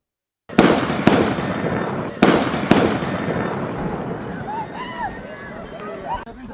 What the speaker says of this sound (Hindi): इस वीडियो में पीछे गोली चलने की आवाजें आ रही हैं